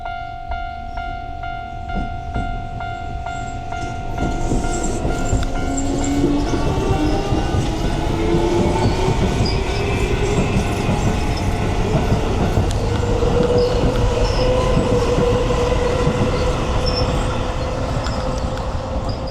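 A train roars fast through a non-express station in Tokyo, loud and sustained, its wheels clattering rhythmically along the rails, with a drawn-out squeal of metal rising above the rumble.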